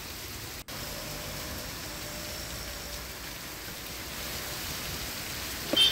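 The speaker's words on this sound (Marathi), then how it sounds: "नवी मुंबई शहरामध्ये जोरदार मुसळधार पाऊस पडत आहे।" Heavy monsoon rain pours down steadily over Navi Mumbai at night, a dense, even hiss of falling water with no talk, with a brief dropout near the start and a slight swell toward the end.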